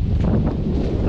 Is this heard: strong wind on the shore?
yes